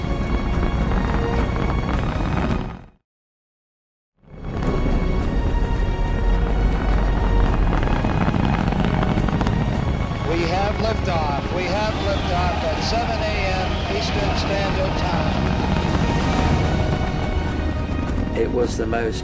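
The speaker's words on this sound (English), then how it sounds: "All engines are running." Saturn V rocket engines roar at the Apollo 11 liftoff, a loud, continuous broadband rumble that cuts out briefly near the start and then returns, with voices talking over it.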